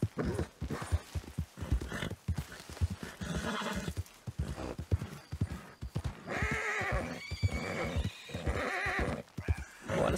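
Hooves clip-clop in a steady rhythm while a horse neighs and whinnies loudly several times, close and clear, in the video game Red Dead Redemption 2.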